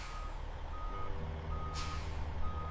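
Trucks pulling into an instant noodle factory under a steady low engine rumble, with a repeated high reversing beep sounding at regular intervals and a brief hiss of air near the end.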